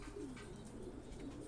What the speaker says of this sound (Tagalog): Ibon natin yan, Chuck.